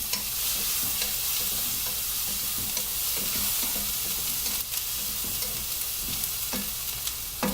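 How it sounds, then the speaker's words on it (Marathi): Masala with tomato sautéed in a pan for bhindi masala, a loud continuous frying hiss with steady stirring and a few scraping knocks, close up and without talk. "तर हा तुम्ही टाकायचा आहे ह्याच्यावर आणि मला छान परतून घ्यायचे, घाई करायची नाही."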